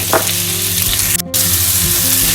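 Finely chopped onions fry in half a cup of oil for kabab karahi, a steady close sizzle filling the whole stretch with a brief dropout near the middle and no talking.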